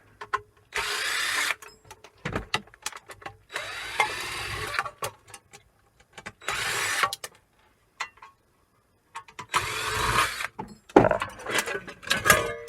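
A power tool unscrews the four screws holding a transformer in scrap equipment, giving several whirring bursts of a second or so separated by pauses and small clicks.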